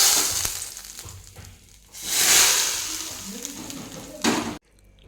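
Hadga flower bhaji in gram flour batter sizzles and fries in hot oil, a loud close hiss that swells as batter goes in, with some stirring and a brief voice before cutting off.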